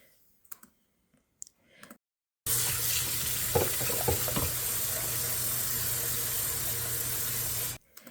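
Tap water runs steadily and loudly into a sink while dried plums (aloo bukhara) are washed, after a few brief clicks; the rush of water continues for about five seconds, then cuts off.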